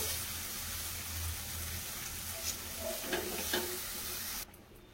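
Kadai paneer masala sizzles in a kadai as chili powder goes in and gets stirred, a steady, close frying hiss with light scraping that stops abruptly at the end.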